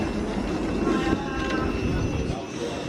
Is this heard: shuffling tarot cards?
no